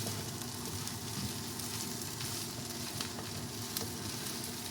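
Corned beef hash sizzles and crackles in a frying pan while being stirred, a faint, steady hiss with small scraping ticks, no talk.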